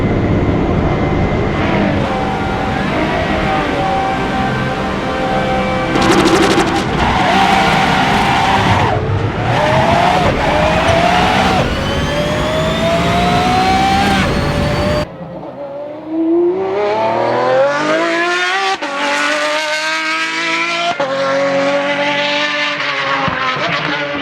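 Race car accelerating in the Assetto Corsa racing game, its engine revving loud and close through rising gear pulls with shifts, tire squeal and skidding, then a brief drop and another climbing run with no talk.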